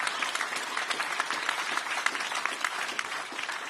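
An audience applauds at a State of the City address, a dense, steady patter of many hands clapping throughout, fairly loud and with no talk over it.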